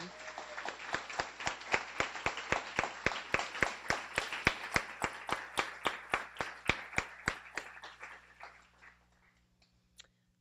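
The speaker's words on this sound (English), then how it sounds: "So I'd like to give a round of applause to all of our graduates who are here and at home." A graduation gathering at a guide dog school claps for its graduates in a steady, evenly spaced rhythm, about three claps per second, fairly close. The claps fade out over the last couple of seconds.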